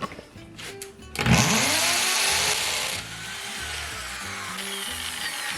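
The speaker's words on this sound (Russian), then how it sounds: "нужна нам чашечка с водой, а то сейчас сверло перегреется" A power drill whines loudly, biting and grinding steadily into hard material in a home, with water cooling the bit, a harsh, buzzing roar that barely lets up.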